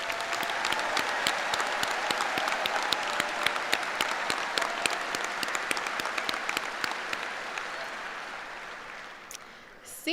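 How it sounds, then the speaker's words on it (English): Sustained applause from a commencement crowd honoring graduating scholars at Kettering Fairmont High School, a dense patter of many clapping hands that fills the hall for about ten seconds and then thins out toward the end. "Please give them a round of applause."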